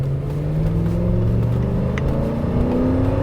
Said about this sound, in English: let's get it to the test track where we can finally test out this transmission and see if it's got all of its gears